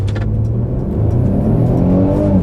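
A Mercedes-Benz E350 EQ Boost with traction control switched off accelerates hard from a standstill, its engine note climbing steadily in a loud, close, continuous rise heard from inside the cabin.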